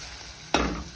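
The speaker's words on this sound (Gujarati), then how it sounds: "હવે આપણે કાચી કેરી એડ કરીશું જે છીણેલી છે તે. સારી રીતના મિક્સ કરી દઈશું." Grated raw mango hits hot mustard-seed tempering in a pan with a sudden loud sizzle and stir. Frying hiss carries on close up after a quiet start, and no voices are heard.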